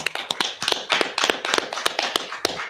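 A class of people claps in scattered, uneven bursts of individual hand claps, close and fairly loud, with no talking over it.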